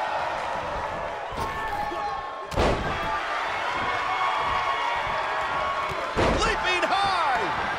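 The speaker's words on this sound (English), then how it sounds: "Oh, using the knee as a weapon. Harsh impact." Heavy slam of a wrestler's knee strike in a Strife Wrestling match, a couple of sharp thuds standing out over a constant hum of crowd and game noise.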